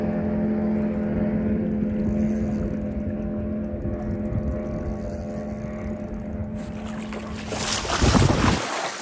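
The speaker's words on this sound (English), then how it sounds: "I didn't hear the drag going because the boat was flying by." A motorboat passes close by off the surf at Surfside, Texas, its steady droning engine hum holding throughout, then a loud rush of wind and spray swelling near the end.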